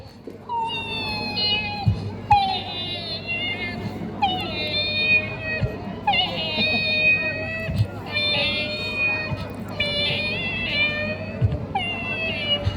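A human mimic imitates a female cat crying, giving a run of six or seven drawn-out, wavering meows in a steady rhythm, loud and close, over a faint background hum.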